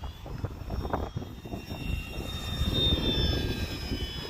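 A radio-controlled Arrows F4U-4 Corsair warbird, running on a 3S battery, makes a high-speed pass. Its electric motor gives a steady, high propeller whine that swells louder toward the middle and stays strong to the end, with no voices.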